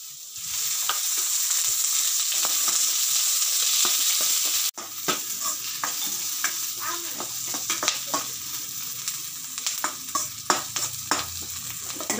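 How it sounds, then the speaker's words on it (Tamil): Onion sautéing in oil in a pan: a steady loud sizzle at first, then after a sharp break a busier stirring sound with scraping and clinks of a spatula over continuous frying. "இந்த வெங்காயம் கொஞ்சம் வதக்கி எடுத்துட்டு"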